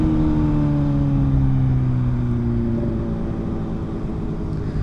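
Motorcycle ridden through corners of a quiet neighborhood in the rain, with a steady close engine drone and shifting tonal whine under constant wind and road rush, no speech.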